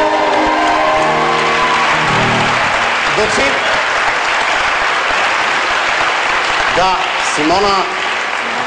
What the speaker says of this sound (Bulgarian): първо аплодисменти, че си избрал българска песен.